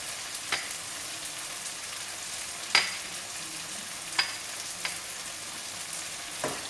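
Spices and sabzi ingredients fry in a pan with a soft continuous sizzle, broken by several sharp clinks and scrapes of a spoon stirring against the pan, all close and without talk.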